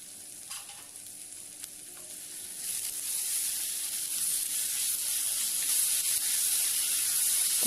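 Tomatoes and onions sautéing in a pan for salna, a soft hiss that swells into a steady, louder sizzle after a few seconds, with a couple of faint utensil taps near the start and no voices.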